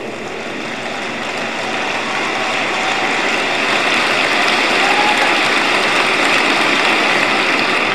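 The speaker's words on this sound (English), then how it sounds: "Well, you can applaud Esther." A large audience applauds for Esther during a speech by Benjamin Netanyahu on US support for Israel. The applause is a dense, steady wash that grows a little louder and holds for the whole stretch, with no talk over it.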